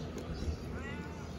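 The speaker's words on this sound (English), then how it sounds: "My beautiful stray cat has returned." A stray cat in Puerto Rico lets out a short, faint meow over soft background noise.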